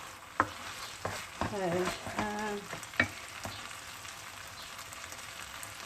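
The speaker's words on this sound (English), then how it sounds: "let me just give this a little bit of stir and see if it's enough." Rice stirs in a pan of olive oil for Turkish stuffed vine leaves, a quiet close sizzle with sharp spoon knocks and scraping strokes, and a single spoken word near the start.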